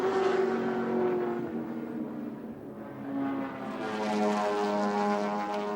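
A 5.7 litre Ford-powered racing car roars down the straight at Adelaide International Raceway in 1981, its engine note rising and falling as it pulls away, with other racing engines droning in the background.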